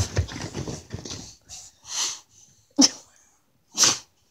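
A dog sneezing indoors, several sharp, close snorting sneezes spaced about a second apart, with sniffing and snuffling between them and no talk.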